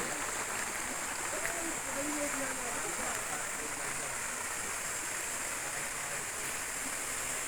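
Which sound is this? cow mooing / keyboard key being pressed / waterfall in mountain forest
waterfall in mountain forest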